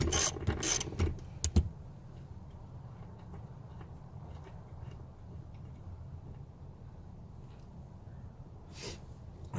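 Rapid metallic ratchet clicks near the start as a rusty rear seat bolt is loosened on a Grand Prix Turbo Edition, then a low steady background hum with a faint click near the end.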